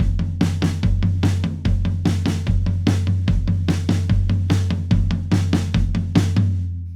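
A full drum kit plays the opening groove of a song: steady, punchy kick and snare hits with bright cymbal wash and driving floor tom accents, repeating in a fast, even rhythm, close and loud with no talking.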